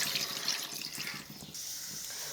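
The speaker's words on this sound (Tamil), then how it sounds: "தண்ணி சேர்த்துடலாம்" Water trickles and splashes into a cooking pot of country chicken, quiet and close, as a brief, steady pour.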